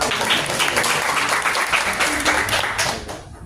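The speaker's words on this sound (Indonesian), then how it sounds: "Boleh kasih applause dulu?" Classroom applause from a group of students, steady dense clapping close by that holds for a few seconds and then tapers off at the end.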